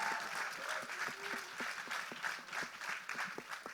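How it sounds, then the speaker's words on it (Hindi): Crowd applause at a Bollywood film trailer launch event, a dense, fairly distant patter of clapping that continues evenly throughout, with faint voices in the mix. "जोरदार तालियां।"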